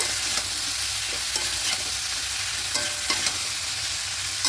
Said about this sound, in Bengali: এবার কেটে রাখা লাউগুলো দিয়ে দেবো দিয়ে সব কিছু একসঙ্গে মিশিয়ে নেব